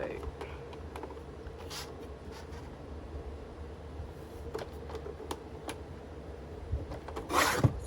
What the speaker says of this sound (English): if you cut your sheet of paper to 8 inches from top to bottom